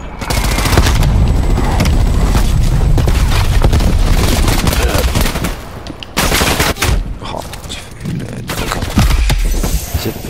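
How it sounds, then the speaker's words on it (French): Heavy gunfire and explosions pound continuously during an incoming enemy artillery strike in the video game Call of Duty Cold War, loud and dense, then breaking into separate blasts. "Artillerie ennemie en approche."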